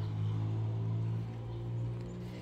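A loud car engine droning nearby, a sustained low rumble that swells and eases slightly over a couple of seconds, with no talk.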